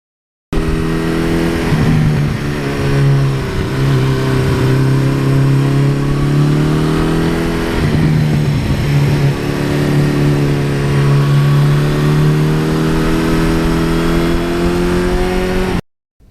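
A 1982 Suzuki GS1100E motorcycle engine idles and revs loudly up close, its deep rumble steadily rising and falling over several long blips of the throttle, with no voices.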